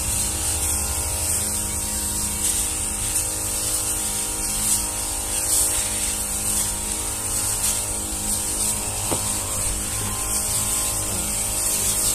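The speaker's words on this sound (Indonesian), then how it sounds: "Lanjut ke semprot lagi." A sprayer mists Bayfolan foliar fertilizer onto avocado seedlings, a continuous close hissing spray with a faint mechanical hum underneath, steady throughout.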